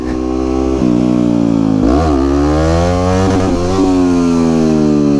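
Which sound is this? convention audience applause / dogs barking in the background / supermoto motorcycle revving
supermoto motorcycle revving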